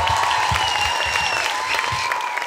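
A comedy club audience applauding after a stand-up act, a steady, dense wash of clapping hands throughout.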